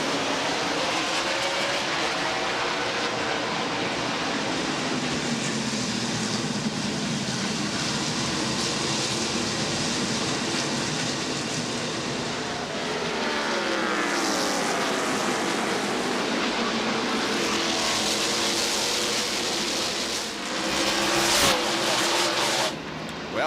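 A pack of NASCAR Winston Cup stock cars races at Martinsville Speedway, a loud, continuous roar of many engines with rising and falling pitch sweeps as cars pass, plus a brief sharper burst near the end.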